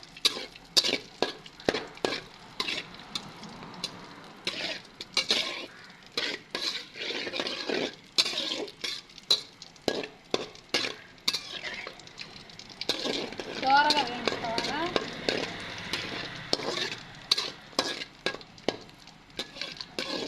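Batter for a Telugu sweet flour dish being whisked in a pot with water, giving quick repeated scraping and tapping strokes against the metal, close and fairly faint, with brief talk over parts of it.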